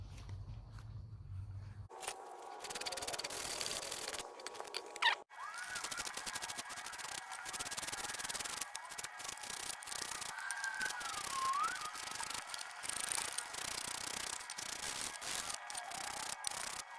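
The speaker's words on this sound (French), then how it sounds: "On va lui donner un petit coup de brosse pour voir le résultat final un peu mieux" A freshly water-quenched cast bronze cannon is scrubbed with a brush, producing close, repeated rasping strokes in an uneven rhythm, fairly quiet, after a short low hum at the start.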